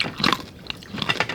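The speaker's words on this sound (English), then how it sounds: "There's a lot of crunch in that bagnet." Crunchy bagnet, deep-fried pork, being bitten and chewed at a restaurant table: a few close, brittle crunches in quick bursts, separated by short pauses.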